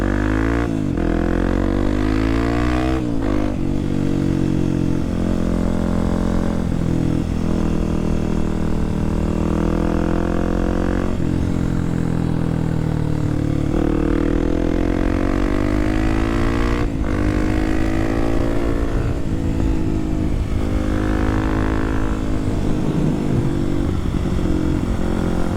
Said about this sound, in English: So here's the electric bike, I like it.